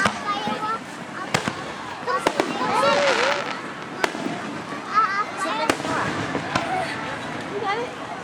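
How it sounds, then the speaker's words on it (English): Fireworks pop and bang at irregular intervals, some sharp cracks nearby, while people chatter and exclaim throughout. "Lighting fireworks."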